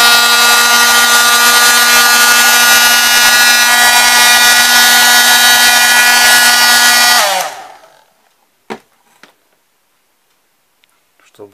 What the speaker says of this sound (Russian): Чтобы закрепить цвет, воспользуемся феном